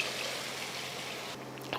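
Water trickles in a steady, faint stream into a pan of dried fish curry for about a second and a half, with no talking.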